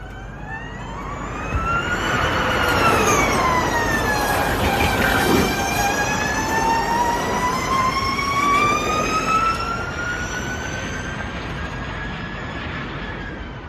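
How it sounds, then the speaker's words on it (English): Prototype Ford Mustang Mach-E 1400 electric car on a road course, its loud, high motor whine rising and falling in pitch as it accelerates and slows, with tyre and road roar beneath and no talk. "That was the sound of a prototype Ford Mustang Mach-E 1400"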